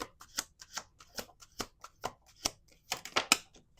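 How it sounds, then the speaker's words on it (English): Playing cards are shuffled repeatedly in quick riffling bursts, close and crisp, with short pauses between each burst. "Let's do 2 more shuffles."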